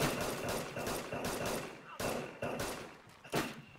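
Mosin rifle fire in the video game DayZ, with a series of sharp, fairly faint gunshot bursts cracking at irregular intervals against a noisy background.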